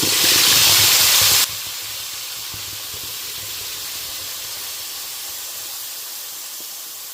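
Pav bhaji paste is dropped straight into hot oil in a pan, starting with a loud burst of hissing sizzle that suddenly drops to a steady, quieter frying hiss lasting several seconds, with no talking.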